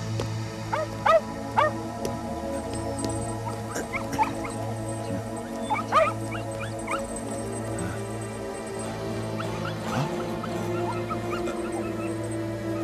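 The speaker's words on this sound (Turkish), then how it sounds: "Nedir bu köpeklerin hali böyle?" Dogs yip and whimper in scattered bursts over a steady low hum, with several short sharp cries clustered together and quieter whines between them.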